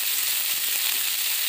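Cumin paste sizzling and frying in a pan with spices, a steady close hiss running evenly throughout with no pauses.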